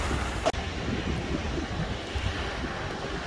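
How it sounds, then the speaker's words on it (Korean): Surf roars steadily close by on the Jeju coast, a dense wash of crashing waves mixed with wind buffeting the microphone and one brief click near the start. "파도 소리가 대단합니다"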